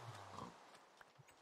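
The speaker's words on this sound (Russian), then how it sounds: "Свинья, что сюда? Кышь." A pig in the Minecraft video game grunts a few times, with short low snorts scattered through the moment, fairly quiet against a faint game background with no talking.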